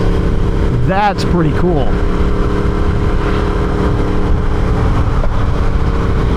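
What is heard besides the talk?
Yamaha R1 motorcycle exhaust note on throttle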